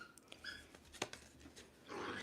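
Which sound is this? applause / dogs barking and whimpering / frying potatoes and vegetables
dogs barking and whimpering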